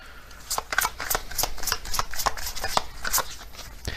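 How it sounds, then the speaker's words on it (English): Zodiac cards are shuffled and handled up close, giving a rapid series of crisp flicks and papery slaps in an uneven rhythm. "I'm gonna get one of these Zodiac cards."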